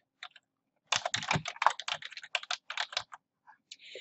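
Keystrokes on a computer keyboard tapped out in quick irregular bursts, close and clear, with short pauses between clusters of clicks and no talking.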